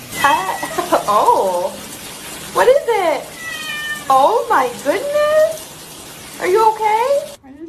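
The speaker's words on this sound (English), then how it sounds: "Here's some more cats." Several cats meow and yowl in repeated drawn-out calls, loud and close, with short pauses between bursts and no one talking over them.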